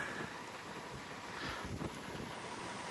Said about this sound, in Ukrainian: Нам головне вітер затестити.